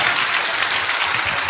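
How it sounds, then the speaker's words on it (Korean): Brief burst of steady crowd applause at a sermon gathering, dense clapping filling the short stretch at a constant loud level. "박수하겠습니다."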